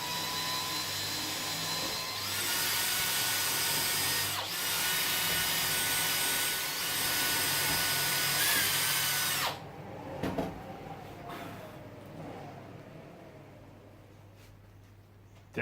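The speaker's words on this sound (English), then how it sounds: "So drill the holes in" A cordless power drill bores screw holes through a router table base plate, a loud steady whine running for about nine seconds before cutting off, followed by quieter handling clicks and a fading hum.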